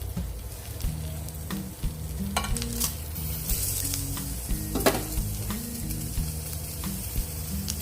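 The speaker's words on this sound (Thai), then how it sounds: "ย่างปลาทูใส่ด้วยนะคะ" Mackerel (pla thu) grills for a chili dip, giving a steady, close sizzle with faint crackles that carries on throughout under background music.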